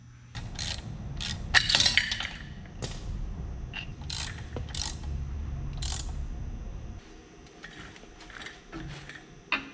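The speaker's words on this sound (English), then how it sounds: "So we're gonna take these bolts out to take off the spring and slide off this tensioner." A ratchet wrench backs bolts out of the tensioner on a budget 12,000 lb winch, bursts of close metallic clicking with clinks and pauses, loud and near, no talk.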